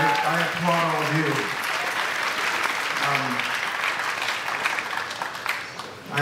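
Audience applause at the Sundance Film Festival awards ceremony, a dense, steady wash of many hands clapping that fills the room, with a voice talking over it at the start and again midway.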